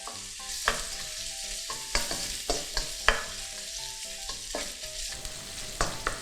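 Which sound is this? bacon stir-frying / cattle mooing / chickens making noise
bacon stir-frying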